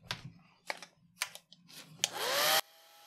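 A few light taps and clicks come first, then a hair dryer blasts a short, loud whooshing burst over a wet watercolor painting of a fawn and cuts off abruptly.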